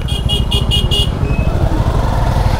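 A motorcycle engine rumbles steadily up close as the bike rolls into a forest resort to park, with a short run of rapid repeated horn toots near the start.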